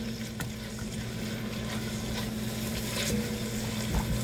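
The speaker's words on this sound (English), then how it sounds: "So I'm stirring the sugar" Sugar stirred in a hot pot while making stir-fry pork, a quiet continuous sizzle with a few faint scrapes and clicks over a steady low hum.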